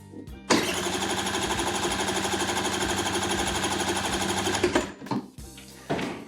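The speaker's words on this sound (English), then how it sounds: "I'm just going to turn the scooter over" A scooter engine is cranked over for several seconds in a steady, rapid mechanical chug, loud and close, then cuts off, followed by a few clicks and a brief restart burst.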